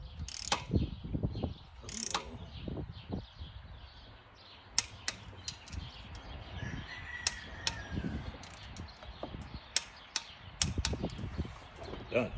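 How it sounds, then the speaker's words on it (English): A torque wrench ratchets in short bursts of clicks while bolts are tightened on a 2013 Chevrolet Caprice PPV, with quiet gaps, faint handling noise and a voice now and then. "What I'm gonna do right now, gonna torque them down."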